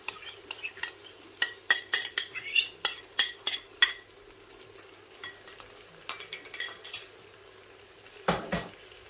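Soya chunks being sautéed in a pot, with a spoon scraping and clinking against the metal in a quick irregular series of knocks over a faint background sizzle, close and moderately loud, no talking.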